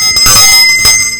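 A single bell from a Rotary club's collection rings loud and close, a bright sustained tone with a few struck accents over about a second.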